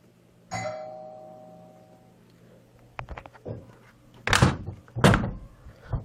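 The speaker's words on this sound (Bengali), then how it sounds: "3 মিনিট পর কলিং বেল বেজে উঠল।" A doorbell rings once with a clear sustained tone in a Bengali audio story, followed by sharp thuds and knocks of a door being opened, close and loud in an otherwise quiet room.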